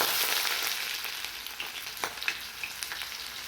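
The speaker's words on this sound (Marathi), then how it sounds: "त्यानंतर आपल्याला कांदा घालायचा आहे." Sliced onion hits hot oil with cumin for kanda poha, a bright sizzle that eases off while a few light stirring taps sound nearby.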